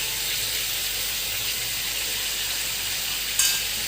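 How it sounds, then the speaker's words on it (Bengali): Black cumin seeds, drumstick pieces and potatoes with salt and turmeric fry in a pan, giving a steady close hiss of sizzling oil throughout, with a brief brighter crackle near the end. "তারপর ভালো করে ভাজতে হবে।"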